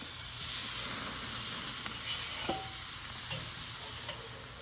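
Food sizzling over hot coals on a charcoal Weber kettle grill, a steady soft hiss with a few faint clicks and pops, quiet and even throughout.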